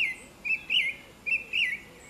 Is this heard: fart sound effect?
no